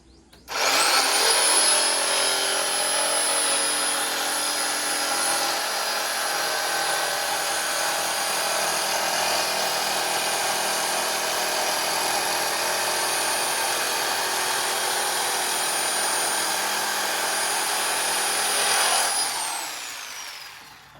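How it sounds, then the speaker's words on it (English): A jigsaw cutting through flooring planks, starting abruptly into a steady, loud high-pitched whine and buzz that holds for about eighteen seconds before winding down. "my favorite choice is the jigsaw to cut off the planks."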